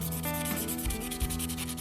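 A Ka-Bar Trapper knife bevel drawn across abrasive grit, a steady close rasping scrape running continuously with a couple of heavier strokes partway through.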